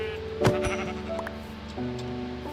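A Minecraft sheep gives a single loud bleat as it is killed, followed by short game effect tones and a steady background music drone.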